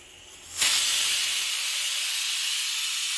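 A stovetop pressure cooker, cooking a traditional Kerala Thiruvathira puzhukku, bursts into a loud, steady steam hiss that starts abruptly after a quiet moment and keeps whistling without a break.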